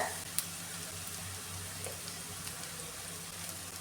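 Onions fry gently in a pan over a low flame for a coconut-based chicken curry, giving a faint, steady sizzle with a couple of tiny pops and no talking.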